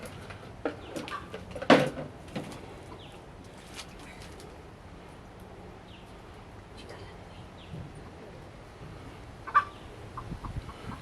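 Hens in a coop give scattered clucks and squawks, one loud burst early and another later, with people talking quietly at times.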